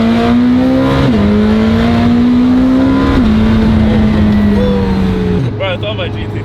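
McLaren Senna supercar accelerating hard up close, engine note climbing steadily through quick upshifts with brief dips, loud throughout, ending in a lower roar.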